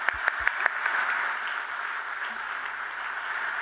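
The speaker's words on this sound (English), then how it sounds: "Please give him a round of applause" Audience applause at a closing ceremony of a forum in Morocco: a few sharp, separate claps open into a dense, sustained wash of clapping from a large seated crowd, heard from some distance and holding steady throughout.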